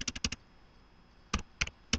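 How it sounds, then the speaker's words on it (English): Computer keyboard typing during Visual Basic coding: a quick burst of four or five keystrokes, then a pause, then short clusters of sharp clicks, close and fairly quiet against a low room hiss. "excuse my typing"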